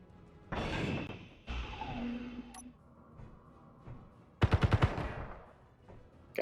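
Turret gunfire in the space game Space Engineers: a few scattered impacts followed by a tight burst of about five rapid shots, loud and close, with game ambience between.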